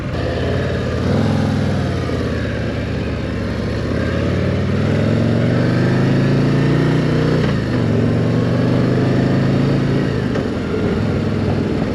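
Big Harley-Davidson motorcycle at a demo day, its engine droning steadily and rising as the bike picks up speed, heard up close from the rider with continuous low rumble and wind noise throughout.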